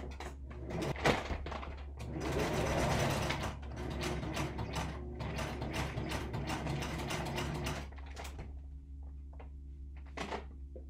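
A sewing machine stitches a tote bag strap made from an upcycled dog food bag, with a rapid mechanical whirring and clatter running steadily for several seconds, then slowing into a few separate clunks.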